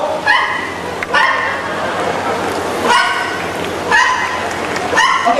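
Parrot imitating a dog at Jurong Bird Park in Singapore, giving four short separated bark-like yelps with a crowd murmuring in the background.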